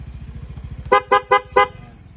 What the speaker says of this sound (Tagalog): Push po ito ng dual horn.